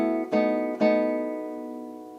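Nylon-string classical guitar playing the chord pattern from Villa-Lobos Prelude No. 1: two plucked attacks about half a second apart, then the chord rings on and slowly fades, clean and solo.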